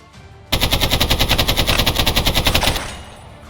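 Sniper gunfire in a Minecraft war game: a rapid, loud, evenly spaced string of about twenty close shots that fades out after a few seconds.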